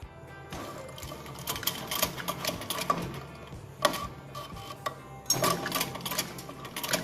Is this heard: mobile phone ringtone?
no